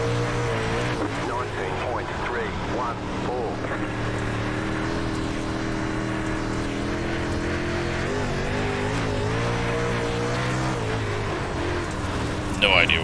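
A dirt race car at Port Royal Speedway in iRacing, engine droning and revving steadily at high load, continuous and close, with a person talking over it.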